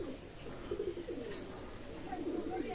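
Chinese Teddy pigeons, a running pair for sale at a pigeon loft, coo in soft repeated low phrases over a steady background hum, with a faint voice in the mix.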